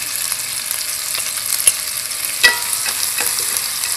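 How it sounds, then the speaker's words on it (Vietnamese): Tomatoes frying in a pan for fish soup sizzle steadily and hiss while being stirred, with a couple of sharp scrapes and clacks of the utensil against the pan. "Đảo cà chua."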